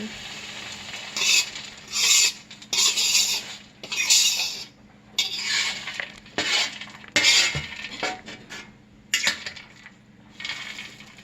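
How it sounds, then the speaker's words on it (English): A spoon stirs nuts into thick banana bread batter in a mixing bowl, producing close, repeated scraping and clinking bursts in an irregular rhythm with brief pauses. "Mix these in."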